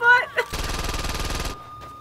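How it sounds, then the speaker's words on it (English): Automatic gunfire in Saints Row 2 rattles out as one sustained rapid burst of about a second, loud and close, after a few brief voice sounds. "I'm using a gun with bullets!"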